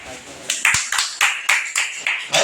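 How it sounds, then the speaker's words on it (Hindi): Audience applause at a journalists' flag-hoisting ceremony in India: thin, uneven clapping from a small crowd with repeated sharp claps in a loose rhythm, fairly close and moderately loud, no voices over it. "भाई तालियां जोर से बजाइए, तालियों की आवाज बहुत कम है।"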